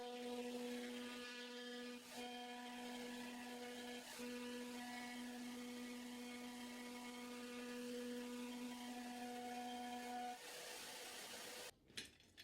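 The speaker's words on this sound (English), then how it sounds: "These then got sent through the router table with a little V-groove cutter." Router table spinning a small V-groove cutter through wooden guide rails, a steady loud high-pitched whine with a strong tonal hum that runs continuously for about ten seconds before spinning down, with a brief clatter at the end.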